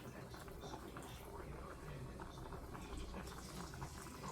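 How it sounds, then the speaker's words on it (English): Pork chops frying in a hot pan, a steady, low crackling sizzle with fine popping that holds evenly throughout, fairly faint and heard close. "It's already starting to fry, yes."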